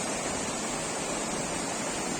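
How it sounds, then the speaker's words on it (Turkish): The Fırtına river in Rize runs muddy and swollen after rain, a steady broadband rush of flowing water, loud and unbroken with no voices. "Dün yağan yağış nedeniyle şu an Fırtına Deresi bulanık akmaktadır arkadaşlar."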